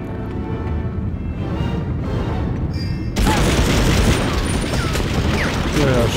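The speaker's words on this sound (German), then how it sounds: "schießen noch ein bisschen durch die Gegend" Gunfire in Medal of Honor breaks out as a dense, loud barrage of shots and booms, preceded by quieter game ambience, with a voice talking over it.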